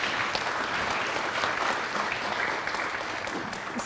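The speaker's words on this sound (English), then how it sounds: "Maybe I'll just let folks give a big clap for him." Conference audience at a science gathering gives sustained applause, a dense steady clapping that stays even and moderately loud with no speech over it.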